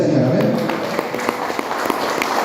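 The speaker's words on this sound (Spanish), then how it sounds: "¿Cuántos le dan un aplauso al Señor?" A church congregation claps for the Lord during a service. The applause is steady and mid-distance, with scattered sharper claps, and a voice or music sits underneath at the start.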